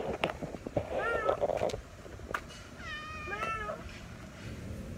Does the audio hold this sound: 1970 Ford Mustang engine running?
no